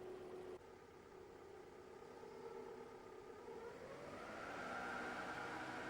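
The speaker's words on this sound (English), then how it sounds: "Then run the engine at 1000 RPM and check the hydraulic pressure again." A car engine held at about 1000 RPM during a power steering hydraulic pressure check, a steady mid-pitched hum with a faint whir that rises slightly toward the end, with no talk.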